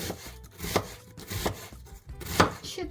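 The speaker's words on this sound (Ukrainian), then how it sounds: "Для початку я нарізаю цибулю." A knife chops an onion on a cutting board in steady, crisp strikes, several sharp knocks in a row with no one speaking.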